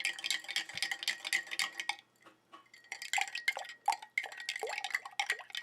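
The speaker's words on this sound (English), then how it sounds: "And I'll stir it around." A spoon stirring alum into water, rapid clinking and ticking against the container in quick bursts with a short pause, close and clear without talk.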